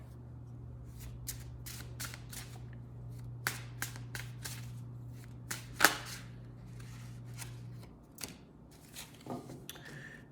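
Wisdom of the Tao oracle cards being shuffled by hand, a series of soft, close riffling snaps at irregular intervals over a faint steady hum, with no speech.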